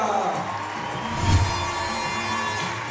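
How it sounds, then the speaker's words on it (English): A volleyball crowd claps and cheers for both teams after a close final set, a dense wash of applause with a few whoops swelling midway and holding steady to the end. "on peut applaudir encore une fois bien fort les deux équipes pour ce spectacle"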